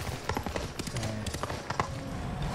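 A horse's hooves clip-clop in the video game Ghost of Tsushima, a quick, steady run of close hoofbeats with light game sounds underneath and no talking.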